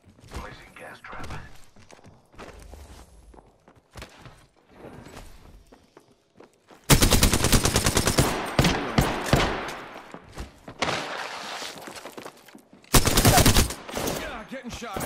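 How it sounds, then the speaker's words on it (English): Gunfire in Apex Legends, with bursts of rapid automatic shots arriving in two loud clusters after quieter footsteps and movement sounds; game voice chatter is heard in places. "Getting shot at."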